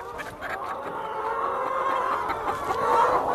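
Chickens kept up off the ground in a hoop house cluck and chatter continuously, a close, busy flock sound that swells slightly toward the end, with no talking.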